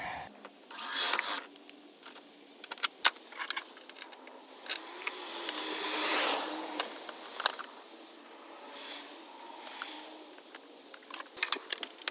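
A nut is worked onto a bolt while an oil catch can is installed on a Crown Victoria, heard as scattered close metallic clicks, ratcheting ticks and rustling handling noises of varying loudness, with no speech.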